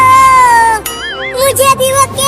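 A cartoon cat lets out a loud, close, wavering meow that bends up and down in pitch, with a voice speaking around it.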